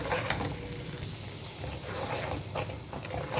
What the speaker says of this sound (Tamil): இடித்து வச்சுருக்க பூண்டையும் சேர்த்து அந்த இதிலையே நல்லா வதக்கி விட்டுக்கிறோம்